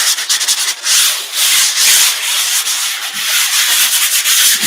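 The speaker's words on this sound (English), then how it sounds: "So I'm just going to sand off all the little knots." Hand sanding knots off a wooden surface, loud close rasping strokes in a repeated back-and-forth rhythm with brief pauses between passes.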